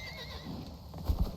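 A horse in the video game Icarus neighs with a high, wavering whinny, followed by a couple of heavy hoof thuds near the end, all fairly quiet and close.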